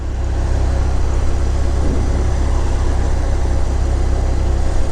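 Car engine hums steadily from inside the cabin while driving, a continuous low drone with road noise that holds even and loud throughout, no voices.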